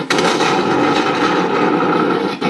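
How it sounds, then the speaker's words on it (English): Battle sound effect from a Heng Long RC tank sound unit, a loud continuous barrage of gunfire and explosion-like noise that fills the whole moment with sharp bursts at the start and end. "Now what I've got on here is other battle sounds programs."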